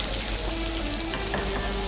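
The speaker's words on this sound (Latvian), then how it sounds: "Drīzāk viņi mīkstinās, kamēr čili cepjās." Chili peppers frying in oil with onion and garlic, a steady close sizzle and crackle that runs unbroken with light stirring scrapes.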